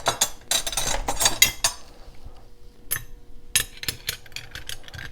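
Metal wrenches clinking and clattering as they are fitted onto a lock, with a dense burst of sharp metallic rattles followed by several separate clinks, close and fairly loud, with no speech.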